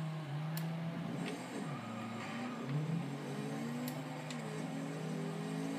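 A 2014 Nissan Juke Nismo RS 2.0 all-wheel-drive concept in Forza Horizon 2, its engine droning and revving continuously with rising and falling pitch sweeps, loud and close.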